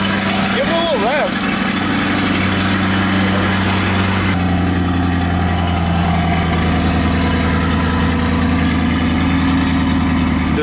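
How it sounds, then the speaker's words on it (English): A C8 Corvette idles steadily with a deep, even engine drone throughout, a brief rising rev near the start, while people talk over it. "Give it a little rev."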